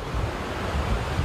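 Strong waves and gusting wind pound a Gulf of Thailand beach at Songkhla, a dense, steady roar of surf and wind noise filling the moment with no voices.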